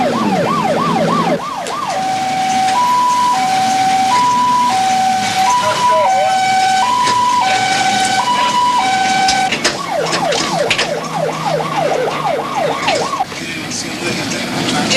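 Ambulance siren wailing loudly and close, shifting between a rising-falling wail and a two-tone hi-lo pattern before returning to the wail, under steady traffic noise in a city street.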